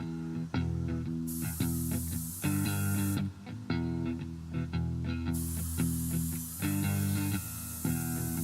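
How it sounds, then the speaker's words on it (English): An airbrush spraying paint onto a guitar decal gives off bright, airy hissing in a few long stretches, heard under louder background music that plays throughout. "using the airbrush again and again to fill in this line and to try and make it look more natural"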